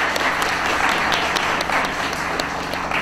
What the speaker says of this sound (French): Et elle applaudit bien fort,